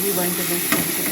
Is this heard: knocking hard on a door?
no